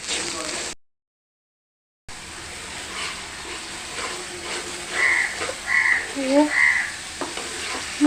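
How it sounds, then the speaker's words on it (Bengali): Spice paste and yogurt frying in a pan for chicken kofta curry, a close, steady sizzle with scraping stirs, broken by a short dropout and later a few squelchy croaks. "মশলাটা একেবারে ভেজে লাল লাল করে ফেলেছি।"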